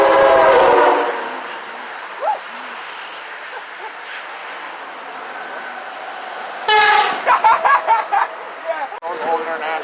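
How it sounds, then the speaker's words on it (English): A truck's train horn blasts loudly at a truck-spotting gathering, first one long chord, then after a lull a second burst of several short, stuttering honks, with background crowd noise between. "I know for a fact this guy's got a train horn"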